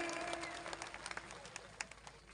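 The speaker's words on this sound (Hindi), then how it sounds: "इन सभी साथियों का जोरदार तालियों के साथ स्वागत करें" Crowd applause welcoming party leaders on stage at the Bharat Adivasi Party launch, a steady clatter of many hands with some sharper individual claps, fairly distant and faint.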